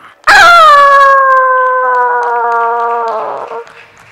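A human voice imitates a dog howling at night, one long loud sustained howl with a rising onset and a slowly falling, wavering tone before fading out.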